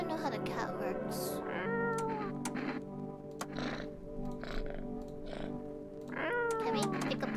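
A cat meowing in the video game No, I'm Not a Human, several drawn-out meows over a music-like tonal background, with a person talking at times.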